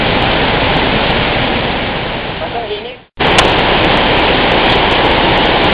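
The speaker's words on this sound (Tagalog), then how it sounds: "Tingnan yung ilog." Steady, loud rushing of a river flowing nearby outdoors, a dense broadband wash that briefly drops out before resuming, with no voices heard.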